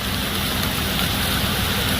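Rain pours at a dump truck work site beside a Nissan Mighty truck, a dense, steady, loud hiss that fills the whole moment without pause or voices.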